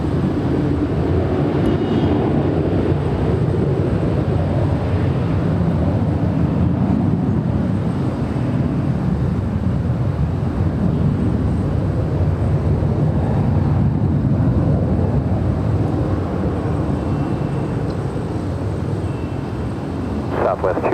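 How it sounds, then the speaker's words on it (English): A United Airlines Boeing 737-800 rolls down runway 24 left at Los Angeles International Airport on its takeoff run, a steady, loud, broad jet roar that holds for the whole stretch, with no voices over it. "United Airlines Flight 608 heading to Vancouver in the 737-800"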